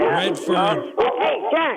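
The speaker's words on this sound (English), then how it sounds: "That's my dog." A pet dog yaps and barks in quick high-pitched bursts, close and loud, overlapping with a voice.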